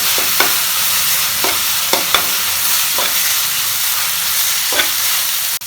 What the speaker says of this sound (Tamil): இப்போ இந்த ஆனியன் நல்லா ஃப்ரை ஆயிடுச்சு.